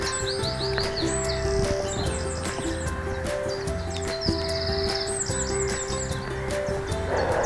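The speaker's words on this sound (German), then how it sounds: "Hört ihr hier auch dieses unwahrscheinliche Geschnatter und Vogelgezirpe?" Birds chatter and chirp in a botanical garden in Münster, a steady dense chorus of repeated trills and tweets nearby, continuous throughout with a low background hum.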